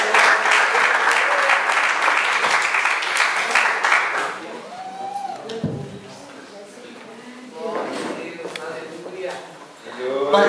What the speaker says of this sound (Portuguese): E as palmas bem fortes para Jesus.